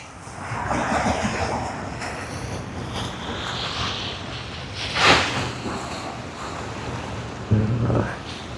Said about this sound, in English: At least you got the sounds of the waves.